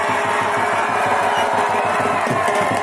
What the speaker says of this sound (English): please give a big round of applause to our godfather, Dr. Satish Bharti